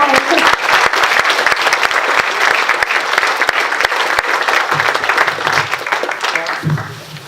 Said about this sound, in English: Time for a round of applause